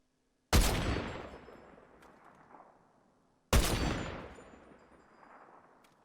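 Two sharp, loud sniper rifle shots ring out in the Fortnite video game, about three seconds apart, each one a crisp crack followed by a long echoing tail fading away, with no talking.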